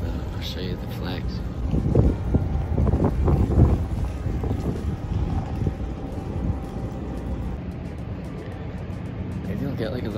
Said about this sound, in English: Look at how windy it is though.